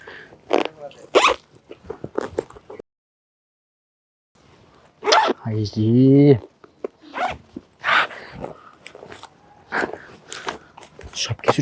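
A bag zipper is pulled open in a rough outdoor search, a short rasping zip that lasts about a second, loud and close. It comes between bursts of handling noise and speech.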